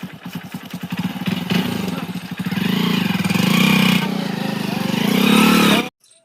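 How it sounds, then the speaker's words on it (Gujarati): A motorcycle engine starts up close by, with a quick stuttering crank giving way to a rough, loud idle and a rising rev before it cuts off suddenly. "હાલ બાઈક ચાલુ કરું"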